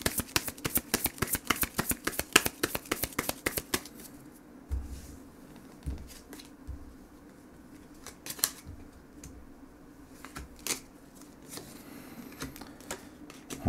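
Tarot cards riffled and shuffled in a quick crisp flurry of papery snaps for about four seconds, followed by sparse soft slaps and slides as single cards are drawn and laid down, close and fairly quiet.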